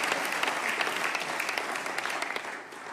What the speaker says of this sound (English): We're gonna clap for them.